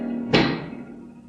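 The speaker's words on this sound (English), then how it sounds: "That is the sound of a giant pick." A radio drama effect of a giant pick knocking: one heavy, close thud with a ringing decay, alone, with no talk.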